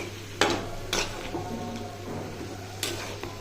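Banana flower frying in a pan gives a low steady sizzle, with a few sharp clinks and scrapes as it is stirred, near and moderately loud.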